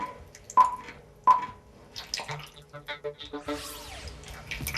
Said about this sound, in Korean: 화면 속 배우의 동작을 쫓아 생간을 만지고 또 먹는 소리를 재현해보는